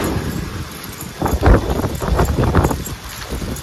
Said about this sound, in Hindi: आंधी आ गई है बहुत तेज।